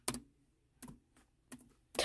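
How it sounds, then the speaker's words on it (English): Keys on a computer keyboard clack in four separate, evenly spaced taps, quiet and close, with near silence between each press during a Sonic video game session. "Stop typing or whatever you want to do."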